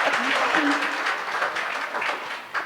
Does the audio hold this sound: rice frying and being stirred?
no